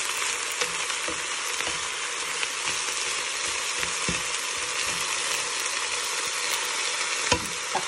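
Chicken tinola cooking in a pot gives a steady broad sizzle and bubble throughout, with a few soft scraping clicks as it is stirred, close and continuous with no voices.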